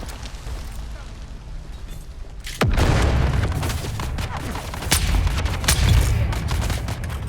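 Missile launch and explosions in Dune: Awakening, a sudden heavy boom after a quieter stretch, followed by repeated blasts and gunfire-like cracks with voices in the mix.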